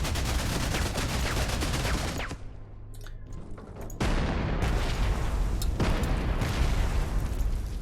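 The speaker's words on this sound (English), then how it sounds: "I think it's time to set the artillery on this." Artillery pounds a bunker in the Panzer Corps wargame with loud, dense, continuous rumbling blasts and crackling fire. There is a brief dip in the middle before the barrage surges again.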